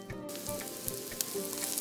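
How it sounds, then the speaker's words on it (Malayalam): Prawns and long beans sautéing in a pan until lightly browned, a soft continuous sizzle with a few quick crackles over less than two seconds, no talk. "ഒരു ചെറിയൊരു ബ്രൗൺ ഷെയ്ഡ് ആവണ വരെ ഒന്ന് വഴറ്റി കൊടുക്കണം."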